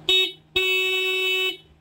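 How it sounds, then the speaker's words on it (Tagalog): Temporary horn fitted to a car, sounded twice: a short honk followed by a longer steady blast of about a second, loud and close with no talking. "Ito nga pala yung temporary horn guys na nilagay nila sa sasakyan namin."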